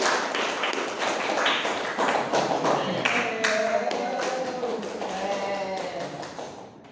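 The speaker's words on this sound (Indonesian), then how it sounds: "Oke, kita tes. Tepuk 2, tepuk 1, tepuk 3, tepuk 4, tepuk 1, 2, 3." A classroom group claps in counted patterns during a fiqh lesson on qurban, bursts of sharp hand claps in short groups and varying counts, close and fairly loud, with a voice speaking between and over some of the claps.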